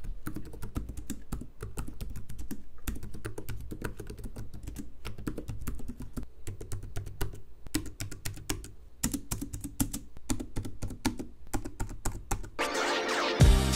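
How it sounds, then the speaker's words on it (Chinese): Keys clatter on an ASUS Vivobook Pro 15 OLED laptop keyboard in steady, fast, close typing bursts with brief pauses, ending in a louder rustle. "以下也提供一段键盘收音给大家参考咯"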